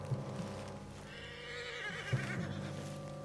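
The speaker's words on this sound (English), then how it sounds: "What's got this horse spooked, huh?" Spooked horse in Red Dead Redemption 2 gives a drawn-out whinny over a quiet outdoor ambience, with a few hoof clops and soft background music.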